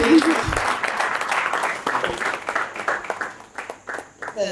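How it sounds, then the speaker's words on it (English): At a training center's first graduation ceremony, the audience claps as a graduate walks, moderate scattered applause running under an ongoing voice and thinning toward the end. "A round of applause while she's walking."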